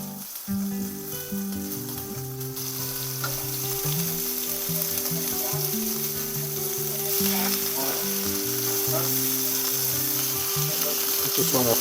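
Pork chops fry in a pan for a honey garlic dish, giving a steady, close sizzle with busy crackle throughout. A faint mechanical ticking runs underneath, and nobody speaks.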